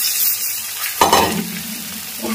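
Mashed potatoes fry in a pan with a steady hiss, and a sharp scrape about halfway through is followed by louder sizzling as they are stirred.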